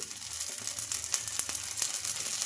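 Oil sizzling steadily around a bottle gourd rava dosa frying in a pan, a close, even crackling hiss with small pops throughout.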